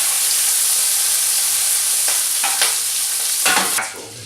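Smoky bacon browning in a pot for Wagyu chuck roast beef bourguignon, a steady loud sizzle with a few stirring scrapes near the end, no talk.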